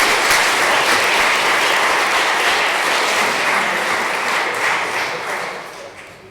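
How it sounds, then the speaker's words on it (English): A conference audience at a panel on human-wildlife conflict policy gives a full round of close, continuous clapping that holds steady, then fades out over the last second or two. "let's give them some applause."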